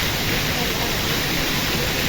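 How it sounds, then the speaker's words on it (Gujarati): Rainwater pours off roof eaves in a steady, loud, hissing rush that runs unbroken and close, during a summer thunderstorm. "ઓલા નેવા પાણી પડે છે"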